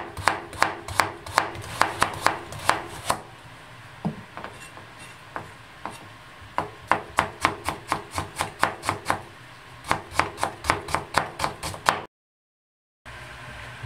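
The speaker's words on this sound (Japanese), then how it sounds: "人参は皮ごと千切り" A knife cuts carrots into fine julienne strips on a cutting board in a home kitchen, giving dozens of crisp, rapid, evenly spaced chops close up, with a short pause midway and a silent gap near the end.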